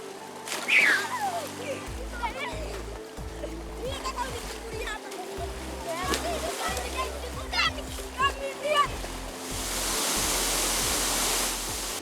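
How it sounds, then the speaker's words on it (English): The Thiba River in Kirinyaga County cascades down with a constant rushing roar while children splash and shout in the water close by, and a voice talks over the scene. "As the river cascades down, it forms majestic features"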